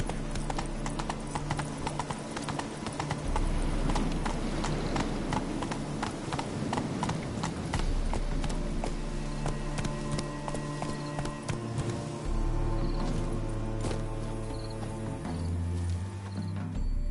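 Horse galloping in The Witcher 3, rapid, steady hoofbeats pounding close and loud across the whole stretch over game music, with a whinny or snort now and then.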